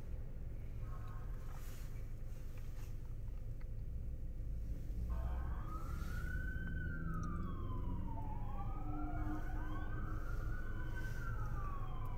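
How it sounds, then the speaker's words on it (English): Emergency sirens wail from a distance in Washington, D.C. during a pre-inauguration lockdown, rising and falling in overlapping sweeps as vehicles pass, over a steady rumble of traffic. "Sirens heading off."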